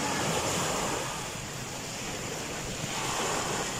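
Sea waves at a public beach wash in as a steady, loud broadband roar with gentle swells, mixed with wind buffeting the microphone and no talking.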